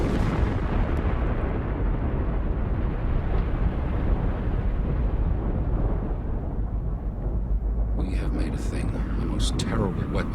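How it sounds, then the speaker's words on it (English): A thermonuclear bomb test nicknamed the Shrimp explodes in a continuous, loud, deep roaring blast that rumbles steadily without pause for about ten seconds. "it would create the biggest explosion ever seen"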